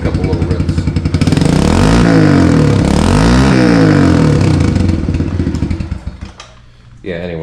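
Pit bike engine, a Kawasaki KLX110R or Yamaha TTR110 running lean with carburetor jetting issues, revved loudly up close in a couple of rising and falling rips before dropping back to a sputtering idle, with a voice at the end.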